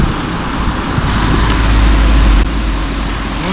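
A Honda Fit engine held at 2000 rpm, a steady, continuous engine drone close by with a low rumble that swells slightly midway before settling; no talking.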